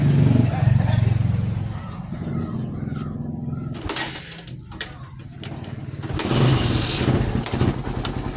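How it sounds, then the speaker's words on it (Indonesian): A Suzuki Satria FU motorcycle engine is started and idles with a steady mechanical rumble, a brief louder burst near the end, while a voice speaks over it. "kita akan coba tes hidupkan motornya"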